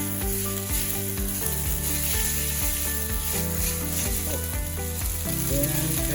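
Noodles fry in a little oil in a pan, a continuous close sizzle with stirring and scraping, steady throughout with no talk.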